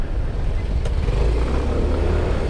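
Motor scooter engine droning steadily while riding on a street, a continuous low rumble with road noise throughout and a brief faint click partway through.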